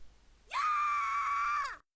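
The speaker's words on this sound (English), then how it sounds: "with a scream of fright, cowardly Yomu fades out" A character in the Touhou Spell Carnival video game gives a single sustained, high-pitched scream of fright. It swells and holds steady for over a second, then cuts off sharply with no talk.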